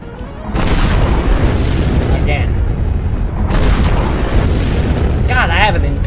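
Nuclear bombs detonate in the destruction game Teardown: two huge, roaring booms, each a sustained wall of rumbling blast noise, with a voice talking over them.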